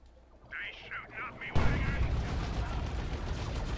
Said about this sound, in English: You can see the Orc tank just taking pot shots here at the Guardians.